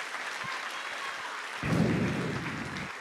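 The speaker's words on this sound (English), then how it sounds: "Can we give these folks a round of applause?" Audience applause for student jazz band players at a school district jazz festival concert, a steady wash of clapping that swells louder midway through and carries on without talk.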